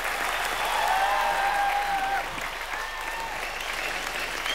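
A studio audience at a Hindi comedy show breaks into sustained applause for arriving celebrity guests, a steady roar of clapping with faint musical tones and a voice audible underneath.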